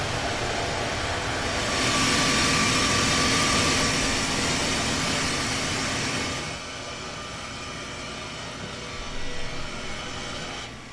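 Airbus A330 jet engines in Microsoft Flight Simulator, a loud steady roar and whine that drops abruptly to a lower, quieter hum partway through, with no talking.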